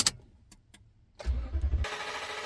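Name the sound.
Toyota Tundra 5.7L truck engine starting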